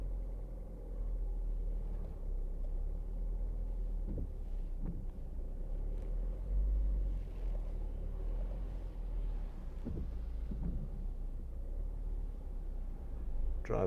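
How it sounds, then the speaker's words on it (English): A 2014 Ford Focus reversing under Active Park Assist gives a steady low engine and road rumble from inside the cabin, with a few soft knocks and clicks scattered through it. "select reverse gear, drive backwards"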